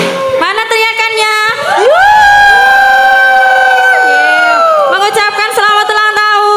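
A loud audience shouts and cheers at a birthday performance with sinden singers, sustained voices rising into a long held cry in the middle before breaking back into scattered, overlapping shouting.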